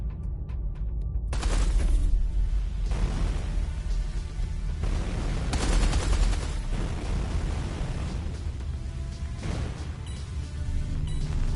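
Spaceship turrets firing in Everspace 2: repeated heavy blasts and booming bursts in irregular succession over a rumbling low drone, loud and close, no talk.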